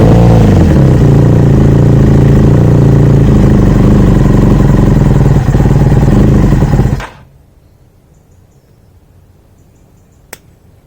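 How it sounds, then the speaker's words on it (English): A small engine runs loudly for about seven seconds with the choke fully on, dying when revved, then abruptly cuts out into near silence, followed by a single faint click; the carburettor needs cleaning. "Choke fully on, dies when you give it any revs, which screams carb clean to me."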